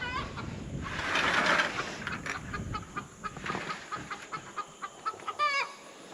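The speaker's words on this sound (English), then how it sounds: "I love those chickens." Chickens clucking close by, a flurry of busy cackles at first, then a run of short, rhythmic clucks with a brief squawk near the end.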